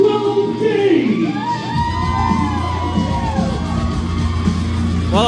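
Home crowd at a wrestling show cheering and whooping for two young wrestlers, a loud, steady roar of many voices with shouts and yells rising over it throughout.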